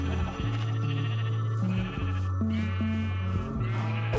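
Minecraft sheep bleating repeatedly, a series of short wavering tones overlapping one another, clear and close with no talking.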